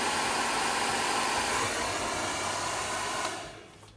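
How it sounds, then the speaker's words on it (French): A hair dryer on a high setting blows steadily onto stone paper during a painting session, a loud, continuous broadband whoosh that holds for several seconds and then fades as it is switched off or moved away. "là je mets mon sèche-cheveux assez haut"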